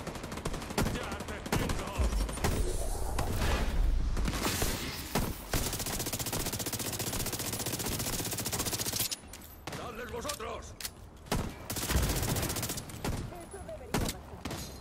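Dense, sustained gunfire from The Division 2 crackles in rapid automatic bursts at high volume, nearly continuous, with a short lull midway before the shooting resumes.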